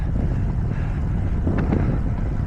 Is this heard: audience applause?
no